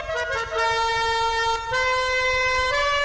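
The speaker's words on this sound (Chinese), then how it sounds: "一二三四是喇叭的声音啊" Car horn options in the GTA 5 video game mod shop play as sustained, tonal horn blasts, loud and close, with a brief break before the horn tone shifts and continues.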